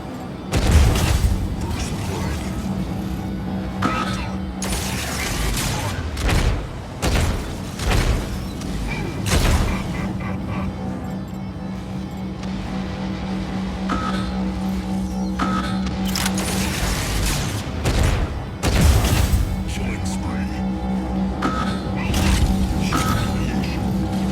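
Mech Arena gameplay with a mech firing a shotgun amid repeated booming blasts and explosions, loud and dense with mechanical clanks, in an irregular rhythm throughout.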